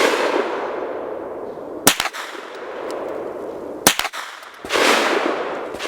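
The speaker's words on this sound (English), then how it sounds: "we'll shoot 5 shots, take the suppressor off, shoot 5 shots on the center target" Gunshots from a 9mm firearm fitted with a SilencerCo Spectre 9 suppressor: two sharp, closely spaced reports stand out above a steady outdoor hiss, each followed by a brief ring-out.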